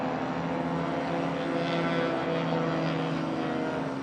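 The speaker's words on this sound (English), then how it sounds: "300 plus horsepower Yamaha Apex engine." A STOL aircraft with a 300-plus horsepower Yamaha Apex engine roars loudly and continuously at close range during a drag race at the National Championship Air Races, a steady high-revving engine and propeller drone.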